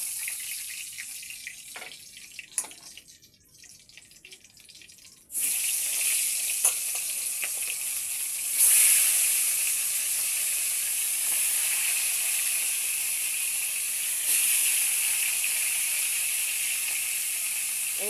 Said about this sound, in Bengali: এইরকম করে সব বাদবাকি মাছগুলো ভেজে নিয়েছি